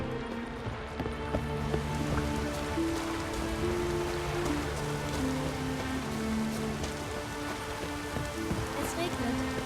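Steady rain hiss falling in a video game, continuous and fairly loud throughout, with game music tones and a voice talking over it.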